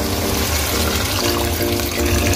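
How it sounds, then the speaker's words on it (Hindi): Water goes into a pot of frying kofta pulao, a loud, steady, broadband rush and hiss of liquid hitting the hot pot that continues without a break. "तो हम जी इसमें पानी ऐड कर देंगे"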